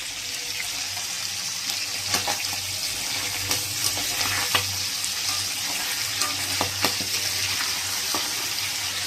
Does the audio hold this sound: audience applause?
no